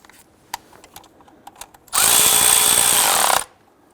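A power tool snugs down a 13mm intake manifold bolt on the back side of a 1999-2004 Jeep Grand Cherokee 4.7L V8. One loud, steady whir runs about a second and a half, preceded by faint scattered clicks and taps.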